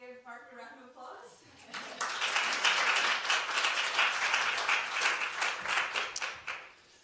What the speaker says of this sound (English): So give Mark a round of applause.